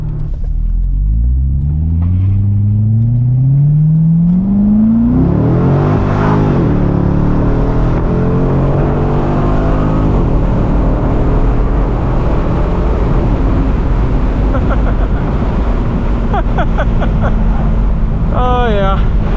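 A 2012 Corvette C6 Grand Sport 4LT Centennial Edition accelerating hard, its engine note climbing through rising revs, a gear change, then pulling again with a loud rumbling exhaust and road noise, close and continuous.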